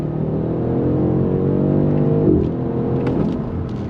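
A BMW M850i, an AWD luxury performance car with rear-wheel steering, pulls through a U-turn on throttle, its engine holding a loud, steady drone that swells slightly before easing off.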